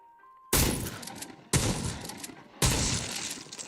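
Three loud, close bursts of rapid gunfire from a wrestling video game, each starting sharply and sustaining briefly, separated by short pauses, with no one talking.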